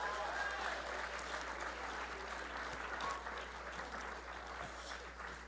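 Applause from a live podcast audience for two guests, a steady, moderately distant round of clapping over a faint low hum, with some voices mixed in.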